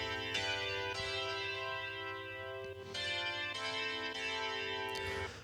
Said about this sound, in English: we've layered it with this electric key sound, which is by Addictive Keys